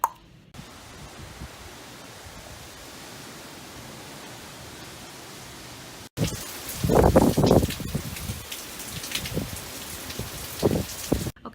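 Rain pours around a house during a hurricane, a steady hiss of falling water that jumps to a louder, closer downpour halfway through, with irregular splashes and drips and no voices.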